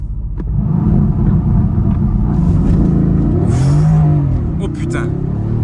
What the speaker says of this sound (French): Launch control.